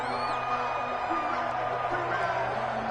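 Steady roar of a home crowd at an American football game, loud and continuous with whoops rising above it, drowning out the offensive line's snap count.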